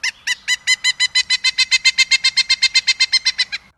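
A pileated woodpecker call in the Dinosaur Train video game: a loud, rapid series of about twenty evenly spaced, nasal, ringing notes in a steady rhythm, clear and alone.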